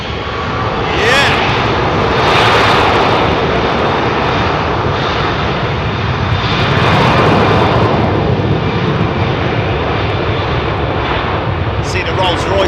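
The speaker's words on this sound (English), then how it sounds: "Nice 767 coming out to join the party." A Boeing 767 jet airliner with Rolls-Royce engines departs Heathrow, making a loud, sustained engine roar that stays steady from start to finish while people talk nearby.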